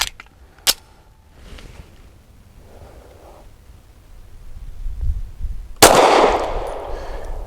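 EAA Girsan High Power lightweight pistol firing Federal Syntec 138-grain synthetic jacketed hollow points at a range, a couple of sharp isolated reports early, then a louder close shot with ringing decay near the end.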